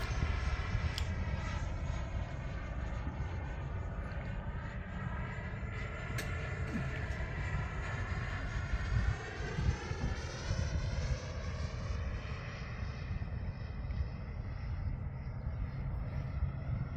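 An FMS 90mm Avanti electric ducted-fan RC jet on 8S power at full throttle, a steady loud whine and roar whose pitch shifts as it passes, sustained throughout.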